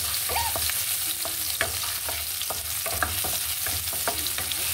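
Onion and garlic fry in a pan with a steady broadband sizzle, broken by repeated stirring scrapes and clinks of a utensil against the pan, close and continuous with no voices.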